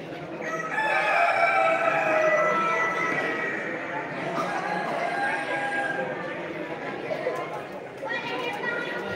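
Roosters crow and hens cluck at a poultry fair exhibition in Castilblanco, several birds calling over one another amid crowd chatter while someone speaks in Spanish nearby.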